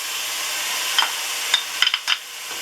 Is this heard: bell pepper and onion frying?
yes